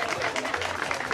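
Studio audience applauding at a talk show, a brief burst of dense, steady clapping from many hands.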